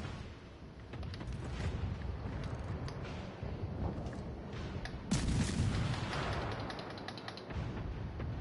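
Naval gunfire in the World of Warships Legends video game, with repeated booming shots and rumbling blasts over a steady engine drone, one louder heavy boom midway, and no talk.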